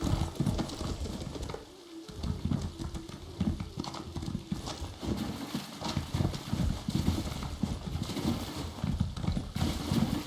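Steady clip-clop of horse hooves in the video game Elder Scrolls Online continues throughout, rhythmic and fairly close, while birds coo faintly in the background.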